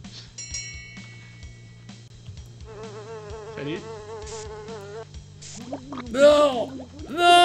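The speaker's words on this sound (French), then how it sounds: "Rem, t'entends-tu des mouches, mon ami?" Flies buzz in a video game, wavering insect drones that rise and fall over game tones, growing louder toward the end as a person talks over them.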